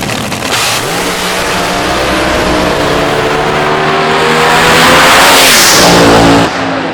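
A loud, roaring nitromethane-fuelled AA/Fuel dragster engine screams at high revs throughout a drag run, its pitch climbing and sustained before cutting off abruptly near the end.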